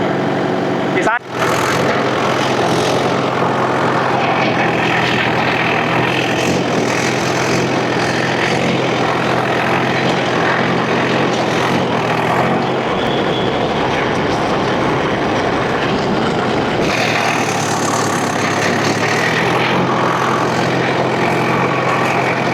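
A Mahindra tractor pulls a rotavator through a wet, freshly watered field. The engine drones loud and steady for over twenty seconds, with the churning of the implement underneath.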